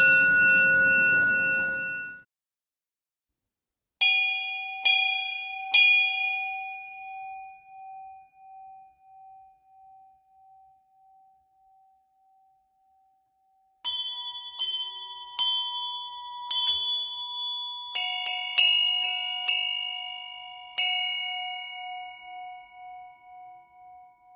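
Bells hung on racks on a stage are struck one at a time and then in quick clusters, each clear ringing tone sustaining and decaying, with a long lone note hanging between bursts.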